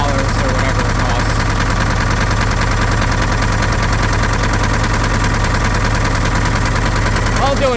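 Case 580B backhoe diesel engine with heavy blow-by running steadily at idle, a loud continuous low throbbing drone with knocking vibration and no pauses throughout.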